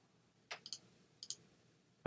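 Computer mouse clicks while changing grades in software, a few crisp, quiet clicks spaced out in pairs, close and isolated with no talking over them.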